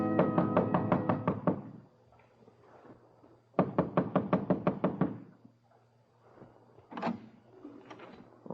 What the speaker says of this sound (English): Only certain kinds of people knock like that.